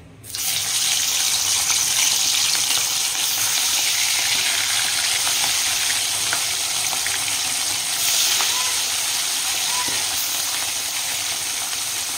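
Bata fish frying in hot oil in a wok, a loud, steady broadband sizzle that starts abruptly and runs continuously with slight swells, close up with no talking.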